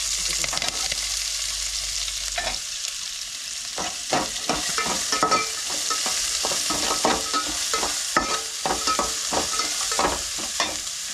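Onion, green chilli and curry leaves fry in hot oil with mustard seeds and chana dal for a village-style kichadi, a continuous close sizzle broken by frequent scraping stir strokes, with no talking.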